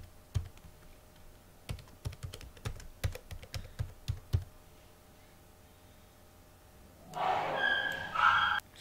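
Fingers tap a computer keyboard entering a username and password, a dozen or so close, crisp key clicks in an uneven burst, followed by a brief muffled rustle.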